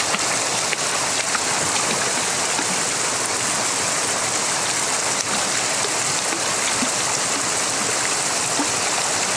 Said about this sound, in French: Derrière, il y a la rivière.